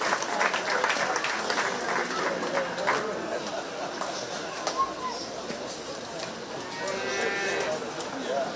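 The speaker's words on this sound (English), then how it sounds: "Let's give Laramie a nice round of applause" A county fair crowd applauds steadily for the hog show judge at a Shelby County 4-H swine show, clapping throughout with livestock bleats and noises mixed in.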